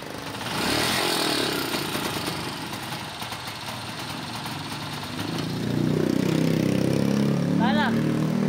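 Honda TMX Alpha motorcycle engine idling up close, dropping lower and then picking up louder toward the end, with someone talking over it.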